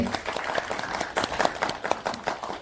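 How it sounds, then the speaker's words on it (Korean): Audience at a fan year-end gathering and constitutional amendment debate claps to welcome a speaker, a brisk burst of applause from a crowd, fairly close and uneven. "큰 박수로 좀 맞이해 주시죠."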